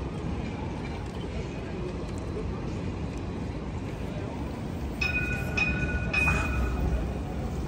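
A Citadis light rail tram rumbles past steadily at the George and Hay Street crossing in Sydney, with brief high squeals from the wheels toward the end.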